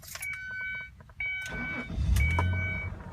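A car engine cranks and catches close up, preceded by a couple of electric whirs and clicks, then settles into a loud running idle.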